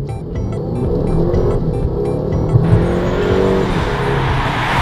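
A Mercedes A250 launches hard off the line, its engine note building steadily under a continuous broadband roar, close and loud, with a brief spike midway and no voices.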